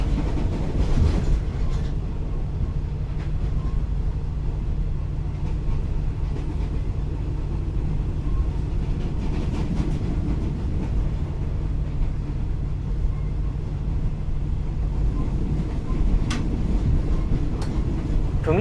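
Steady interior rumble of a first class train carriage heading to Chiang Mai in Thailand, a constant low-frequency drone with occasional faint clicks and rattles, continuous and loud throughout, no speech.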